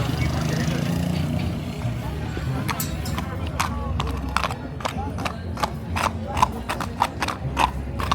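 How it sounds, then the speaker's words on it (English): A pinto horse's hooves clip-clop on pavement at a street event in Cartago, Costa Rica, with crisp repeated strikes growing louder toward the end over a steady crowd murmur. "that's a cute little horse there"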